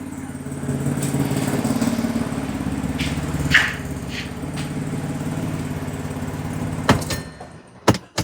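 A 2014 Audi Q5 with a misfire and rich-running fault idles steadily for several seconds, then shuts off near the end with a few brief clunks and clicks as it falls quiet.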